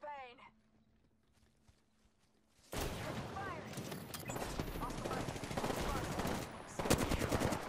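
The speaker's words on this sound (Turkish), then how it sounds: "Sağdan sıkıyor birisi." Rapid bursts of gunfire in the battle royale game Apex Legends, loud and dense after a quieter start, with shots crackling near and far while players talk over the action.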